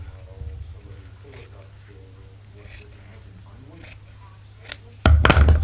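Scissors freehand cutting paper for a junk journal, a few quiet snips under a person talking, then a sharp, loud burst of close cutting at the end.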